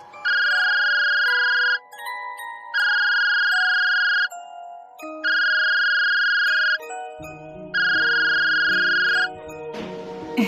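A phone rings unanswered, with four long, steady electronic ring tones evenly spaced by short pauses, loud and clear, followed by a softer, noisier tail of sound at the end.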